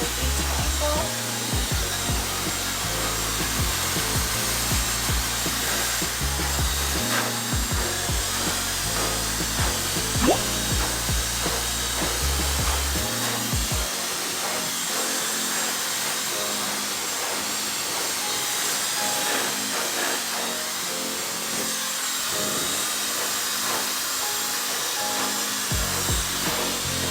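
A handheld hair dryer blasts air at the roots of damp hair, a loud, steady, close whooshing roar that runs unbroken from start to finish, its low rumble shifting partway through as the airflow moves around the head.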